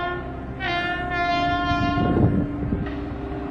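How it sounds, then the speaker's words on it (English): A train horn sounds steadily over the rumble of a passing train, swelling briefly partway through with a second blast near the end. "Let's start with the train whistle."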